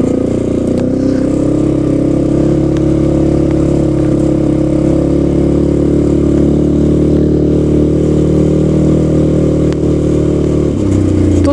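A Sharmax 650 Force quad bike runs in all-wheel drive on a muddy trail, its engine a loud, close, steady drone with a strong low hum and little change in pitch until a brief shift near the end, with no talk.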